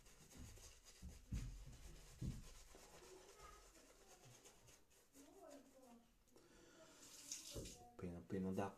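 Hands being lathered with bar soap under a running tap at a sink, with water splashing and rubbing sounds coming in bursts, close by, while someone talks over it now and then.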